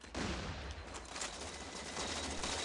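Rapid automatic gunfire in the Halo 4 video game during a team doubles match, a dense, continuous fusillade of fairly quiet shots with heavy low rumble, and no talk.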